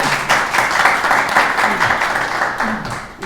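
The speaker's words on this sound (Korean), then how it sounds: "먼저 교수님께 박수 한번 드리겠습니다." Audience applause for a professor at a book concert, a close, loud, dense round of clapping holding steady throughout, with faint voices underneath.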